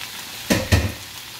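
Ground meat and African eggplant in a frying pan, with a low background sizzle and two short bursts of stirring noise close up; no one talks.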